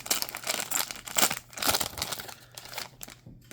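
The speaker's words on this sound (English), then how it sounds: "A foil pack here." A foil wrapper on a 1993 Donruss baseball trading card pack is torn open and handled, giving several bursts of sharp crinkling and crackling, close and moderately quiet, with short gaps between them.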